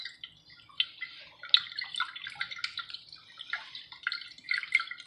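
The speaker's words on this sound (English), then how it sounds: "I'm actually not going to do much to this except pour a whole bunch of whiskey on it." Whiskey poured from a bottle onto raw meatloaf mix in a kitchen gives close, irregular splashing and dripping, with bursts of trickling liquid alone.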